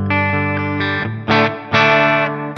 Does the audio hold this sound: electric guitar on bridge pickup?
yes